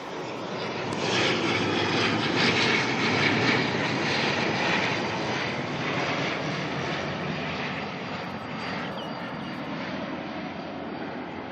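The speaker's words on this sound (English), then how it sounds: "We've got an ATR coming on in from New Plymouth." An ATR turboprop airliner arriving from New Plymouth at Auckland Airport passes with a loud, sustained engine drone and propeller buzz that peaks early, then slowly eases off.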